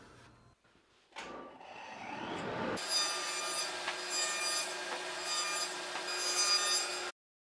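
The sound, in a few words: jigsaw notching out corner of a panel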